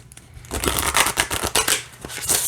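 A large deck of cards is side-shuffled by hand, giving a close, rapid run of riffling clicks and soft slaps that lasts about two seconds.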